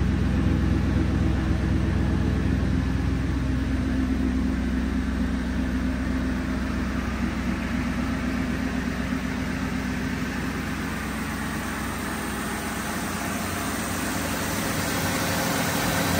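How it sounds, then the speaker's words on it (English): A 2001 Ford Mustang GT V8 with dual chrome-tipped exhaust idles smoothly and steadily, a low even rumble with faint hiss, constant and moderately near throughout with no voices. "Nice smooth running V8."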